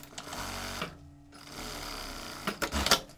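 Sewing machine stitching the neckline and armhole of an asymmetric jumpsuit, a steady close motor whir with a short pause midway, then resuming with a few louder clunks near the end.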